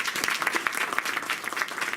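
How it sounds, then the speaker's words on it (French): Audience applause for a speaker at a lecture on the Arabic language, continuous dense clapping from a seated crowd throughout. "Merci de l'applaudir encore une fois."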